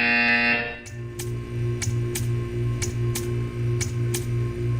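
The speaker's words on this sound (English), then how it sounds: "When you hear the buzzer, stare at the art." A harsh electronic buzzer in the video game Portal 2 blares for about a second, then stops, followed by a repeating pulsing hum with regular ticking clicks.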